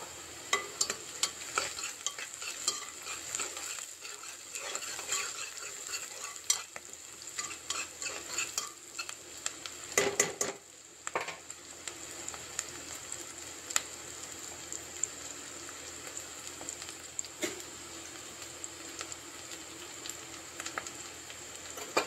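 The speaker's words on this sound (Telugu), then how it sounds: "ఇలా ఉల్లిపాయలు దూరగా వేగేదాకా ఉంచుకొని అల్లం వెల్లుల్లిపాయ పేస్టు మరియు కరివేపాకు వేయాలి ఫస్ట్." Onions frying in a pan with ginger garlic paste and curry leaves, a steady close sizzle broken by repeated stirring scrapes and clinks, with a brief louder burst partway through and no voices.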